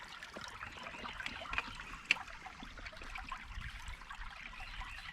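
Faint creek water trickles and burbles steadily close by, a soft continuous stream with small splashy peaks.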